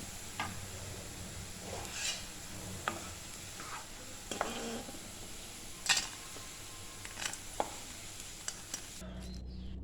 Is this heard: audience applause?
no